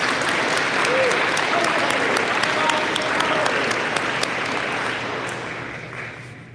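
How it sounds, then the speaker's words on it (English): A crowd at a police badge ceremony for a graduating class applauds steadily, a dense wash of clapping that holds for several seconds before slowly tapering off. "I'm going to ask for one final round of applause for Class 116 before they're dismissed."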